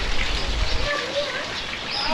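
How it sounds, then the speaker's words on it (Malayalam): Water from an artificial stream flows in a bird sanctuary near Madinah, a steady close splashing rush with faint bird calls and occasional chirps mixed in. "ആ ഭാഗത്ത് നമ്മൾ നിൽക്കുമ്പോൾ പക്ഷികളുടെ ശബ്ദവും അതുപോലെ തന്നെ ഈ വെള്ളം ഒഴുകി വരുന്നതിൻ്റെ ശബ്ദവും"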